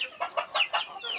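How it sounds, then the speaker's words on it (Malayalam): Country-breed chickens on a farm give a quick run of clucks, about five short bursts in uneven rhythm, close and moderately loud with no talk. "ഇതാണ് മുളം കോഴി"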